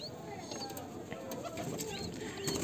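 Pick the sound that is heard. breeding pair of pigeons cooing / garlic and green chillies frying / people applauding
breeding pair of pigeons cooing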